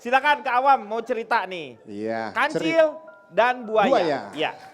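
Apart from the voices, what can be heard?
No everyday noise stands out behind the speech.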